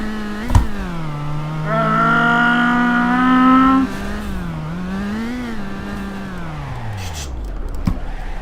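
A car in the BeamNG driving game slides with its brakes held, the engine droning at a steady pitch while a bright tire squeal rises over it for a couple of seconds, then the engine note wavers and winds down.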